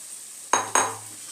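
Boiled chickpeas tipped into hot spice masala for Dhuska curry, two quick clattering drops followed by a brief sizzle close by.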